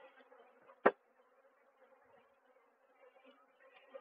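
Soft, steady honey bee buzzing from an opened hive hums at low level throughout, with a single sharp knock near the start and a few faint shifts toward the end.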